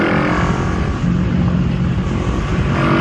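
A 2019 Kawasaki Z650 motorcycle accelerates in fourth gear on the highway, a loud steady engine drone with rushing wind that holds for about three seconds.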